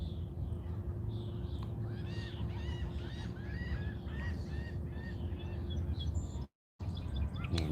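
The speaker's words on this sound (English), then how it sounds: "man, that bird is pretty." A bird gives a series of honking, goose-like calls over steady outdoor background noise, fairly faint and mid-distance.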